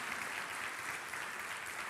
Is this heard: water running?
no